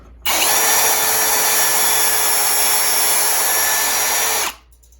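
A power drill boring pocket holes into a wood board for a custom table runs in one steady, loud, high-pitched whine for about four seconds, then spins down and stops.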